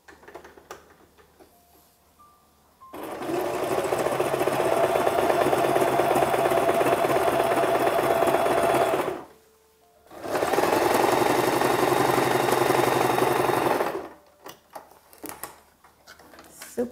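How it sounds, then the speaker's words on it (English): A sewing machine runs a mid-width zigzag stitch along a sleeve edge in two fast, steady bursts of close, even whirring and ticking, separated by a short pause. "So the zigzag, the mid-width zigzag stitch."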